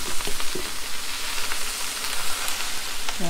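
Pad Thai noodles being stir-fried in a hot pan give a steady, close sizzle and crackle with occasional stirring scrapes, loud and continuous throughout.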